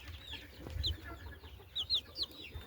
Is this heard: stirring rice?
no